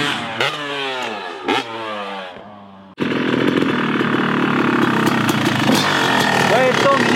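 Dirt bike ridden on a freshly laid-out motocross and FMX track, its engine roaring loud and steady through the second half after an abrupt start, with talk in the opening seconds.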